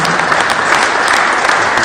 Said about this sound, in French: je voudrais que vous applaudissiez